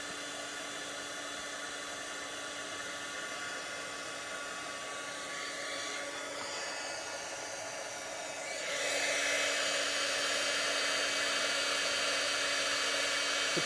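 A vacuum cleaner runs steadily indoors with a constant whooshing motor roar that grows louder and brighter partway through, with no talking.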